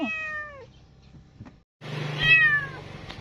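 A stray kitten stuck under a car's hood gives two high, plaintive meows separated by a short pause, the second one louder over low background noise.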